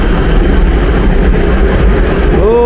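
A Beijing subway Line 10 train runs with a loud, steady rumble that fills the car, and a rising metallic squeal of wheels near the end.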